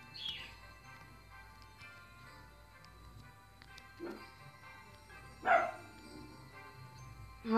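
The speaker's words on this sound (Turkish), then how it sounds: "Havlama sesi geliyorsa bizim paşadan geliyor arkadaşlar." A pet dog gives a few short, sharp barks spaced apart, faint to moderate and somewhat distant, over a quiet background hum.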